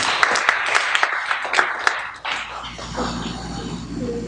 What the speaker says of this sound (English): we may give the Lord a clap of praise